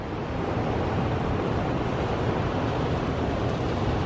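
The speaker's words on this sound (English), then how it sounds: "A big swell out there farther." Ocean waves break on a beach along the Cape to Cape coast of Western Australia, with a big swell offshore, giving a continuous, loud, broadband roar mixed with wind noise and no distinct individual crashes.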